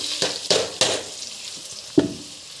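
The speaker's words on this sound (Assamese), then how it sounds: "এতিয়া এই গৰম কৰা তেলখিনিত গোটেই আচাৰখিনি দি দিম" A radish pickle is stirred into hot oil in a pan, with a few scraping stirs and clanks over a faint, low sizzle, close and moderately quiet, with no speech.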